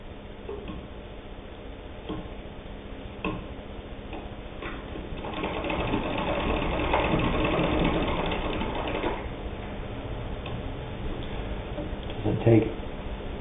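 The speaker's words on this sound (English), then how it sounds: "it has no problem whatsoever sewing 8 layers of denim" Singer 66 Red Eye hand-crank sewing machine driving through eight layers of denim, a steady mechanical ticking and clatter that builds in the middle, with someone talking over it throughout.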